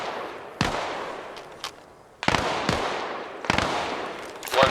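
Rifle shots in ARMA Reforger, sharp loud cracks in small clusters with short pauses between them, each trailing a rolling outdoor echo.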